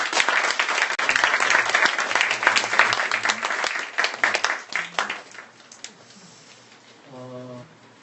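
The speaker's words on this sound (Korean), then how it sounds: "두 분을 위해서 우리 박수 한번" A church congregation breaks into loud, sustained applause that gradually thins into scattered claps and fades out, with a voice speaking briefly near the end.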